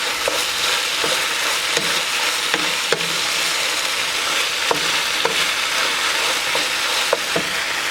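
Chicken stir fry with sugar added sizzles loudly and steadily in a pan, with scattered spatula clicks and scrapes as it is mixed, and no one speaking.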